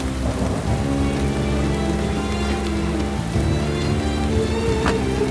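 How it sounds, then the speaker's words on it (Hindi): Heavy rain pours steadily in a loud continuous wash, with low rumbling thunder rolling underneath throughout, and no voices. "बारिश बहुत तेज है"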